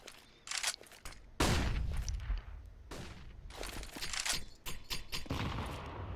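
Volleys of rifle fire in a competitive Counter-Strike: Global Offensive esports match, with sharp loud shots and short rattling bursts repeating throughout, some close and punchy, others lighter, with no talk over them.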